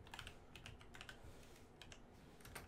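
Quick, irregular clicks of typing on a computer keyboard, close and fairly faint, with keystrokes in short clusters and no voices.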